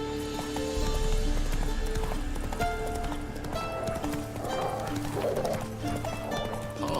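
Roach, a horse in The Witcher 3, galloping with steady rhythmic clip-clop hoofbeats under game music and ambience, moderately loud and continuous throughout.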